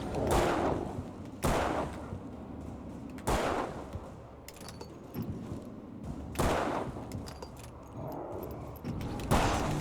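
Keys jangling in the Alan Wake video game, appearing as brief metallic rattles amid several sharp, loud impacts at irregular intervals, with little or no talking.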